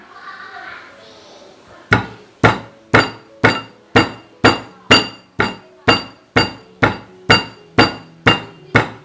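Steady, evenly spaced pounding on beef to tenderize it, about fifteen firm thumps in a row after a short stretch of quiet background chatter.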